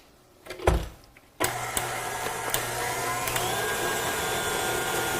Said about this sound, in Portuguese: vou colocar aqui agora dentro da batedeira o leite de coco e o coco ralado e deixar bater mais alguns segundinhos